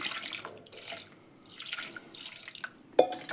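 Water pours into a mung bean gravy mixture in splashing, trickling bursts that rise and fall, ending with a sharp knock of a vessel.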